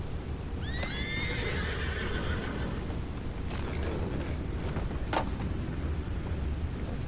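A horse whinnies near the start over a constant rumbling background in the video game Red Dead Redemption 2, with a sharp knock or thud a few seconds later.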